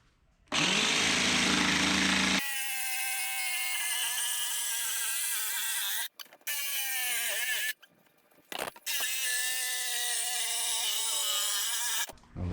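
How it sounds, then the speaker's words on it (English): A jigsaw cuts a hatch opening into a 1648 jon boat hull, a loud continuous buzzing with harsh metallic rasp, broken by a few brief pauses as the blade stops and restarts. "I'm gonna go ahead and run through with the jigsaw"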